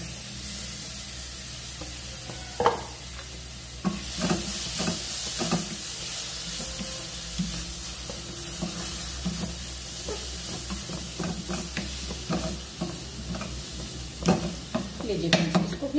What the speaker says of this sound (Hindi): इसमें चला जाएगा चॉप्ड टमाटो, ये फाइनली चॉप है, इसको मैं डाल दूंगा